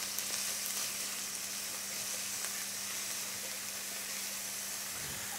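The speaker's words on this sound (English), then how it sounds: "Now you've got the oil pretty heated up now. First we'll put in the onions." Onions frying in heated oil for a tomato meat sauce, making a steady, even hiss and sizzle, close and moderately quiet.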